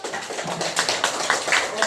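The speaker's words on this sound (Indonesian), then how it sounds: "Oke, tepuk tangan dulu." Classroom clapping during a lesson on types of angles, a scattering of uneven hand claps from pupils over a busy, noisy room with voices mixed in.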